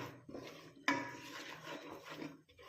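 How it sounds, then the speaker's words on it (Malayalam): A spoon stirs Amrutham powder mixture in a pan, giving soft repeated scraping with one sharper knock against the pan partway through, all quiet and close with no voices. "ഇതുപോലെ ഇങ്ങനെ കുറേശ്ശെ ഇളക്കി കൊടുക്കണം"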